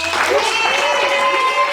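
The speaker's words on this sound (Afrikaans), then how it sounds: "hier kan julle almal net hande klap of geluid maak want hier's baie mense" Large audience clapping at a live comedy show, a steady dense wash of applause filling the room with a faint mix of voices underneath.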